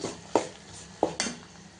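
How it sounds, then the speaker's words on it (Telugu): A spoon scrapes and clinks against a pan a few times as capsicum masala curry is stirred, with short irregular stirring strokes and a faint background sizzle. "ఇట్లా మొత్తం కలియబెట్టి"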